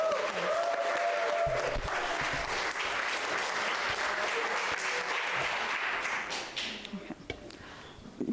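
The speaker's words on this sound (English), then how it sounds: "Can we give our families another round of applause?" An audience at a church Black History Month celebration claps steadily for families, forming a dense, even wash of applause with a few voices mixed in, before it thins into scattered claps at the end.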